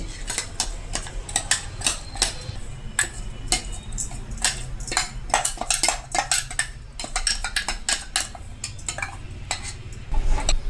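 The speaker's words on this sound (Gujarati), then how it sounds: "આપણે આ પેસ્ટને કઢાઈમાં કાઢી લેશું" Coarse herbal paste for a natural hair oil is scraped into a kadai pan, producing rapid metallic clinks and scraping taps in an uneven rhythm, close and with no speech.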